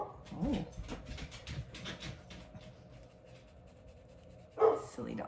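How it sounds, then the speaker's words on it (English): Dogs indoors give short whimpers and yips with a sharper bark burst near the end, mostly moderate in level and partly overlapping a person talking. "Silly dogs."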